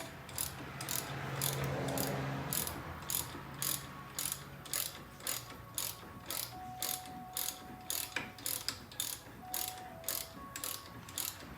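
A ratchet clicks in a long steady series of sharp strokes while bolts are tightened on the front brake mounting bracket of a 2011 Chevrolet Impala, close and crisp, after some initial rustling.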